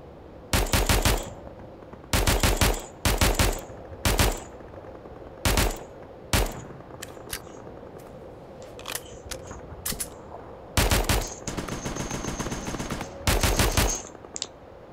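Bursts of cartoon machine-gun fire from an animated war episode, rapid rattling volleys repeating through the scene with short pauses and a few sharp single cracks between them, loud and close with no talking.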